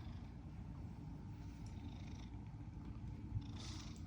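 A domestic cat purrs close by, a low steady rumbling throb that continues evenly throughout in a quiet room with no speech.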